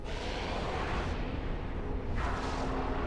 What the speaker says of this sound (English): Oh, here's the explosion.